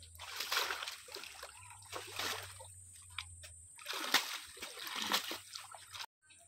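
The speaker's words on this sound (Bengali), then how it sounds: "বাঁধাকপিটা পুকুরের জলে ধুয়ে নিচ্ছি" Cabbage is washed in pond water, with soft repeated splashes and sloshing in uneven bursts, fairly faint and close, ending in a short silence.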